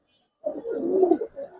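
A silver Giribaz pigeon, a tumbler breed, gives one close, continuous throaty coo that starts after a short silence and rolls on for over a second before trailing off.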